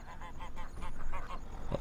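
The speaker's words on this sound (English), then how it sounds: "I don't think I've ever picked up geese before." Geese in the video game Farming Simulator 15 honk repeatedly in a quick, uneven series of nasal calls, moderately close, with a soft background hum.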